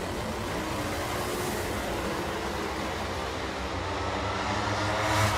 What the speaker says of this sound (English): Shoots out early and a little pop down there for Sidnei Frigo.